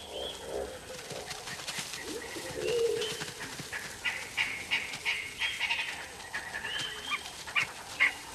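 African wild dogs in the Okavango Delta give soft whimpers and high chirping calls, faint and irregular against a quiet outdoor background.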